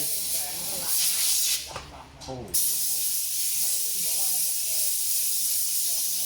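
A loud, continuous hiss of compressed air blowing dust off a Mitsubishi Pajero 3.2 radiator comes in bursts, stopping briefly midway before resuming; a faint voice is heard underneath.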